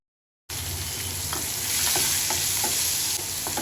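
After a moment of silence, shallots hit hot oil and fry with a loud, steady sizzle, punctuated by occasional stirring scrapes.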